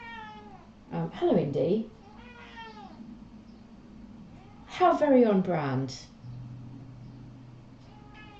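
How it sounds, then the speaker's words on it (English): A pet cat shouts with loud, drawn-out meows in two separate bursts, heard close up indoors, with a person speaking softly in between. "someone who studies ancient Egyptian magic has a cat who also shouts"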